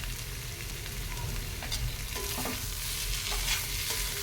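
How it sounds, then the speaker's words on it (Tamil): Boiled potatoes with a little cumin powder are stirred in a hot pan, with steady frying sizzle and repeated scraping stirs from the spoon throughout. There is no talking. "உருளைக்கிழங்கு சேர்த்துக்கலாம் நல்லா கலந்து விட்டுருங்க"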